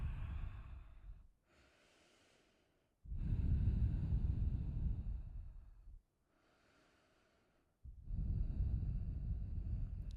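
Slow, deep breaths during a hip mobility yoga pose come close and clear. Long, heavy exhales alternate with quieter inhales in an even rhythm, and no one speaks.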